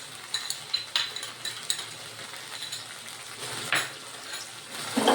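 Mutton stir-fried with sugar and ginger-garlic paste, a busy sizzle broken by repeated scraping and clinking stirs, fairly close and loud.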